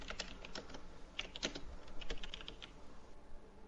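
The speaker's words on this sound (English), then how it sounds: "Bambi do be typing." Quiet, rapid typing on a computer keyboard, irregular clusters of light key clicks over a soft background hum.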